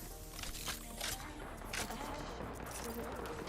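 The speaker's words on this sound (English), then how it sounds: "They're shooting at me" Gunfire in the Apex Legends battle royale game, bursts of rapid shots crackling in clusters over a busy background, with a voice talking at times.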